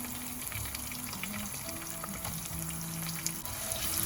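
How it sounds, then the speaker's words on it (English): Mustard seeds, cumin seeds, fresh curry leaves and chopped onions sizzling in hot oil, a steady close crackle and hiss with occasional pops and a faint low background hum, no voices. "in some mustard seeds followed by some cumin seeds, and some fresh curry leaves, chopped onions"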